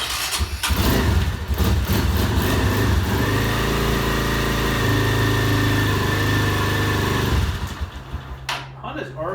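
Motorcycle engine cold-starting on full choke: the starter cranks briefly, the engine catches and runs in a loud, steady, rough idle for several seconds before cutting out, with a voice heard briefly near the end.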